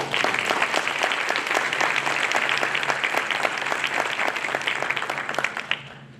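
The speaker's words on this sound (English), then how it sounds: "Let's have one more round of applause." Applause at a spring honors college graduation reception: a roomful of people clapping in a steady, dense patter, fairly close and even throughout, tapering slightly at the very end.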